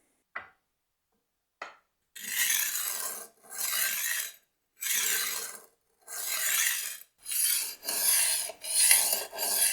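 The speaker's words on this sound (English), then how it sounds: "starting with the coarser disc, I'm going to start to roll that back and forth" A kitchen knife is rolled back and forth on the coarse disc of a rolling knife sharpener, giving a series of about eight steady gritty rasping strokes in an even rhythm, close and fairly quiet, with no talking.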